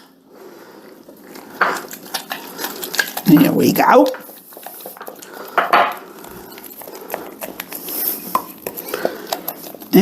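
A stiff spoon stirs milk and powdered sugar in a bowl for a cinnamon roll cake, giving scraping, clinking strokes of moderate loudness, with a person speaking briefly over the stirring.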